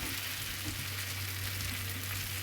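Beef bhuna frying in oil in a pan, a steady dense sizzle with a constant hum underneath, close and continuous throughout with no talking.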